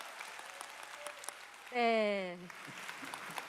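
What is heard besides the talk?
audience applause for the company chairman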